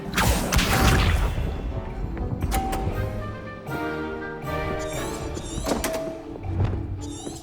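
Hogwarts Legacy spell combat with Accio summoning effects: heavy thunks, magical whooshes and crashing impacts in quick succession, loud and layered with ringing tonal shimmer.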